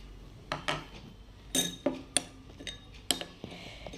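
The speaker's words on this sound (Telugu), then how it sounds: "ఫస్ట్ ఈ బియ్యం పిండి ఈ పాలు రెండు మిక్స్ చేసేద్దామండి" Rice flour and milk being mixed in a bowl, quiet close clinks and taps of a spoon against the bowl, irregular strikes spaced through the moment with soft scraping between them, no talk.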